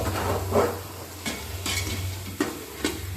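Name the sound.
stirring onion and tomato biryani masala in a pot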